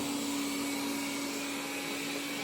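A Shark IQ robot vacuum runs on its highest cleaning setting, giving a steady, close motor whine with a constant pitched hum and airy rush, no voices.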